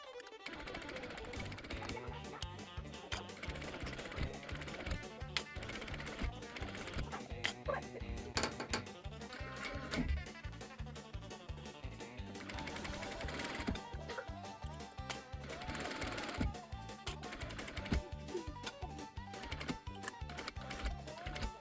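A sewing machine stitches the hem of a no-pattern apron in a steady, continuous mechanical whir with fast needle clatter, running without pause throughout.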